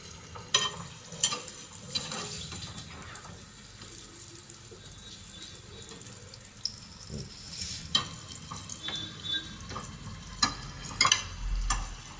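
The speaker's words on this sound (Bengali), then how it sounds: "এরকম করে লাল করে ভেজে নিতে হবে।" Coated paneer pieces fry in a pan until golden brown, a steady soft sizzle with occasional clinks and stirring sounds, no voices.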